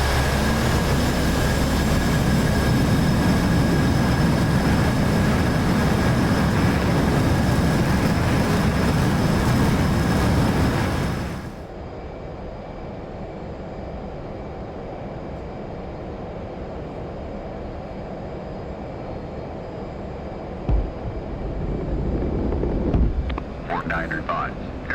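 Simulated F/A-18C jet taking off in DCS, a loud, dense engine roar filling the first eleven seconds, then cutting to a quieter, steady cockpit hum with faint clicks near the end.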